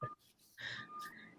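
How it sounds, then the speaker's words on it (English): Short, thin whistled notes, faint and breathy, come in brief bursts with a small pause between them. "Who's whistling?"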